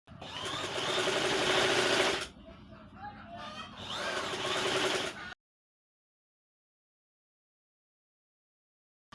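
Sewing machine stitching together the fabric pieces of a baby frock, running in two loud bursts with a short pause between, then stopping into silence.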